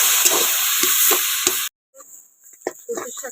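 Taro leaf greens frying in a pan over low heat, a steady loud sizzle with stirring scrapes that cuts off abruptly, followed by quieter, sparse pan sounds and faint clatter.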